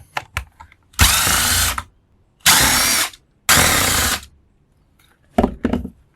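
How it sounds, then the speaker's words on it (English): A power screwdriver or drill removes three screws from a soldering gun being scrapped for copper, with three loud whirring bursts between small clicks and handling noises. "We got 3 screws that I'm going to go ahead and remove here."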